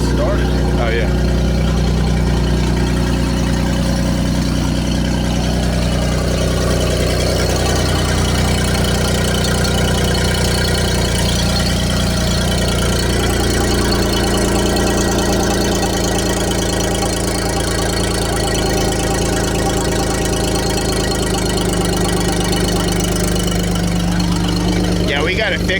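A freshly started engine idles steadily and loudly up close, a constant rumble with some knocking and a faint squeal through it. Voices speak over it now and then.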